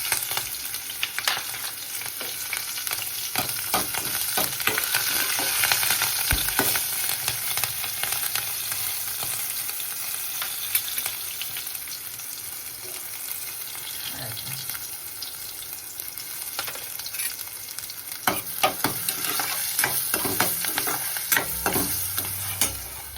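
Asafoetida and green chili pieces sizzling in hot oil with mustard seeds for a no-onion, no-garlic raw tomato curry, a steady crackling hiss with scraping and light clicks of stirring throughout.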